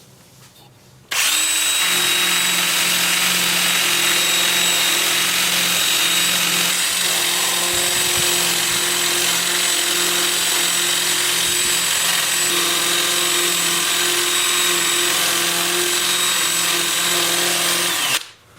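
A steady, loud motorized whine with an abrasive hiss as a 2-inch, 180-grit sanding disc works against wood spinning on a lathe at 385 rpm, running continuously before cutting off.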